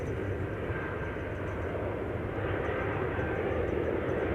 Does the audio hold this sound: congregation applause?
no